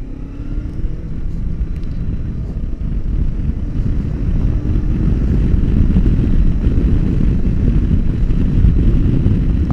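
A 2021 Honda CB 500X motorcycle rides hard around a race track, its engine droning loudly and continuously with rising revs, heavy wind rush over the microphone throughout.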